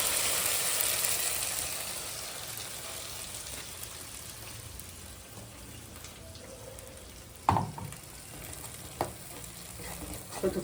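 Ginger paste sizzles steadily in a hot pan as it is fried and stirred, a soft continuous hiss broken near the end by a few sharp scrapes and clinks from the spoon.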